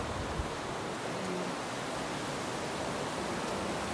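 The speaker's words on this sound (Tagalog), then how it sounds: "Maalon ngayon. Maalon. Mabato dito, oh." Rough sea surf breaks against a rocky beach at Whale Bay, Southampton, Bermuda, producing a dense, continuous roar of wash and spray that stays loud and unbroken throughout, with no voices.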